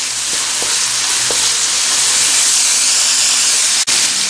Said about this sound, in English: you should add the cabbage and green pepper. Saute it nicely.